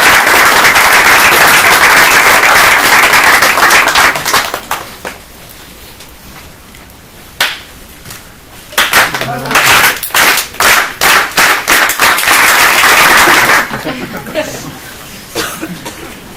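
Audience applause rises loudly in a dense burst of clapping welcoming a superintendent, fades under speech, then returns in a second strong wave of clapping and trails off.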